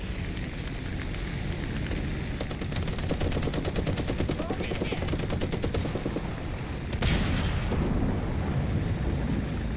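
Machine-gun strafing from a Stuka plane in War Thunder, rapid sustained fire and rumbling explosions around a ground vehicle, loud and dense throughout, with a sharp burst near the end.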